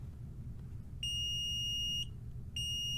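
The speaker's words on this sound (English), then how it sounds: "We're going to hear 2 beeps." A Weiser Z-Wave smart lock gives two clear electronic beeps after its batteries are replaced, each about a second long, close and fairly loud over a faint background hum.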